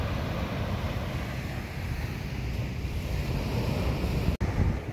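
Large ocean waves break steadily beside a boat at sea, a continuous loud wash with strong wind buffeting the microphone and no talking.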